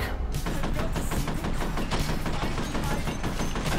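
Rapid automatic gunfire from the shooter game F.E.A.R., a dense, loud, continuous rattle of shots with no pause, overwhelming any other sound.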